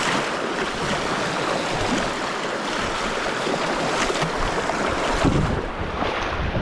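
Shallow river water rushes steadily at a crossing on New Zealand's Te Araroa Trail, a loud, continuous wash of noise with some wind and no talking.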